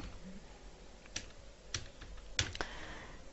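A word being typed on a computer keyboard, a few quiet, distinct key clicks spaced irregularly over a soft steady background hiss, with no voices.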